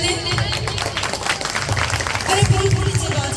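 An audience at a stage performance competition claps and cheers, a dense, continuous applause with crowd voices mixed in.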